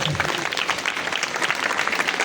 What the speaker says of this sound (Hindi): आए यीशु के लिए जोरदार तालियां